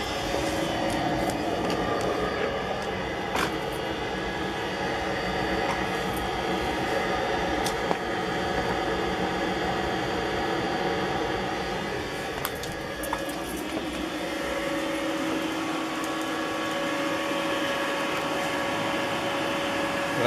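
An Espar D2 diesel heater runs with a steady, continuous whir and blowing roar, loud and close, powered by a new battery, with a few faint clicks over the constant hum and no talking.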